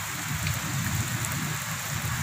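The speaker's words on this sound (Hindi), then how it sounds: "ये बारिश आ गई है हुण जनाब" Steady rain falls over a village as a dense, even hiss of drops hitting surfaces, continuous and close with no pauses or voices.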